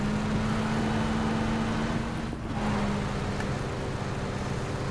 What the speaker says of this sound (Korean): 차 소리 나는 것 같은데